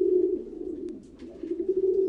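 Racing pigeons coo in a low, steady, rolling drone from a loft in Belgium, a continuous murmur that dips briefly midway before swelling again, with no talking.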